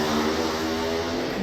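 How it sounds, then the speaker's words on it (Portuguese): A motorcycle passes by with a steady engine drone, loud and continuous across a short moment with no talk over it. "A moto sempre passa"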